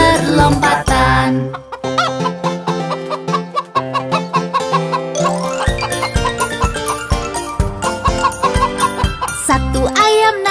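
Cartoon chickens cluck and a rooster crows within a bouncy children's nursery-rhyme tune, the bird calls mixed with bright music throughout.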